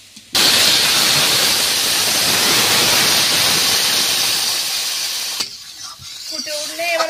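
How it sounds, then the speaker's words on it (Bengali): Water is poured into a hot pan of potato and taro curry. It makes a sudden, loud, steady rushing hiss that lasts about five seconds, then fades to quieter bubbling. "এবার জল ঢেলে দিচ্ছি।"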